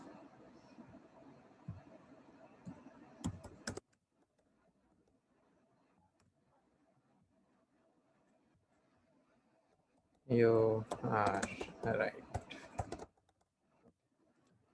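Keystrokes tap out code on a computer keyboard in a steady, close clatter for a few seconds, then the room goes quiet before a voice speaks briefly.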